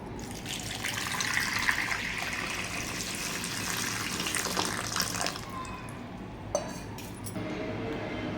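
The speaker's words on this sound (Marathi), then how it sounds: "पाणी टाकून घेऊया आता ह्याच्यामध्ये।" Water runs steadily from a tap into a small pressure cooker holding potatoes, a continuous splashing pour nearby that ends with a few light metallic clinks.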